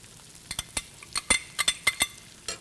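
Onions tipped into a hot pan for a bean bolognese, with a soft sizzle under a run of sharp spoon-against-pan clacks and scrapes as they are stirred, close up and without talk.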